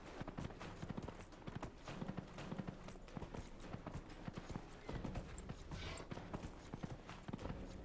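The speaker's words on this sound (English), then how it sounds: "riding horses in this game." Horse hooves gallop in a fast, steady clip-clop rhythm during a horse race in the game Dragon Age: Inquisition, continuous and fairly quiet with no talk.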